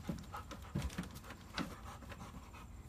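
Dog with a trained retrieve panting faintly in quick, rhythmic breaths, soft and close, with light rubbing noises in between and no talk.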